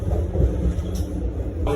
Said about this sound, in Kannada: The train has come to a complete halt.